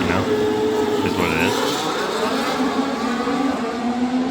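Formula One cars at the US Grand Prix roar past in a loud, continuous engine wash with a brief rising whine early on, crowd and trackside noise mixed in throughout.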